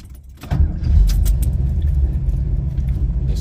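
A 1979 Pontiac Trans Am with a 400 engine and four-speed rumbles steadily at close range after a brief sharp sound at the start, a deep continuous idle-to-cruise drone with no talk over it.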